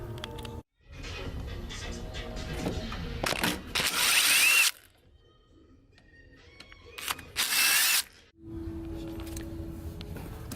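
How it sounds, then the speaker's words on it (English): A hand tool works loose the 8mm bolts holding RB25 coil packs to their bracket, with two harsh, buzzing bursts of a few seconds each and quieter clicks and handling noises between them, all close up. "took out all the bolts on these coil packs"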